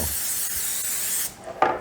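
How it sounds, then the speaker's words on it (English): Cooking spray blasts onto parchment paper lining a baking pan, a steady close hiss for about a second and a quarter, then a short pause and a brief second puff. "And I spray the parchment paper too. I spray that also."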